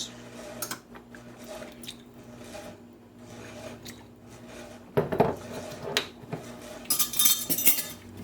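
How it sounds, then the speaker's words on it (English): Sauce ingredients, including Worcestershire sauce, are whisked with a spoon in a bowl, giving soft wet squishing and light clinks against the bowl. The sound grows busier and louder toward the end. "And whisk it all in"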